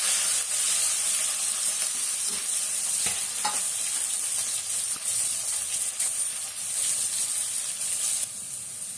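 Green chilli, a single onion and vegetables sauté in hot oil in a pan for fried rice, giving a steady, close sizzle and hiss with occasional stirring clicks and scrapes throughout.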